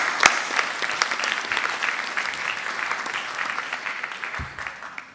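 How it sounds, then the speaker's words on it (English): Audience at a graduation ceremony bursts into sustained applause, a dense steady wash of clapping hands filling the room for several seconds and tapering slightly at the end. "join me in a round of applause for thanking all of those folks"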